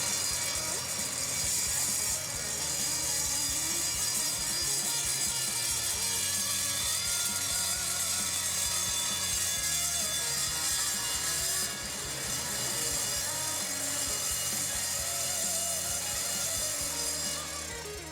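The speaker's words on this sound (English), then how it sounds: "When you bring your saw down, it's always going to be cutting on the downstroke" A miter saw slicing through clamped metal box section, a loud, continuous close-up grinding whine with steady metallic screeching that holds for the whole stretch, briefly dipping once before resuming, with no voices.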